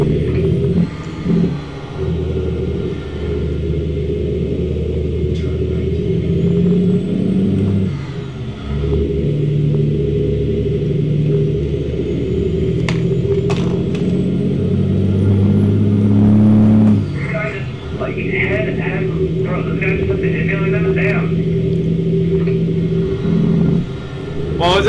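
A heavy truck engine rumbles and revs through gear changes in American Truck Simulator during a convoy drive, with a loud hiss of air brakes near the end and a voice talking over it.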